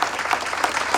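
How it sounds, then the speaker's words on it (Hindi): Audience applause at a business presentation, a dense steady patter of many hands clapping close by for a full second with no talk over it. "जरा इनके लिए जोरदार तालियां"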